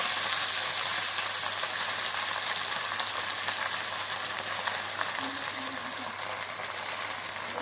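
Amaranth greens (tandaljo bhaji) cooking in a pan over low heat give a steady, close frying sizzle with faint stirring, broadband hiss continuing alone throughout.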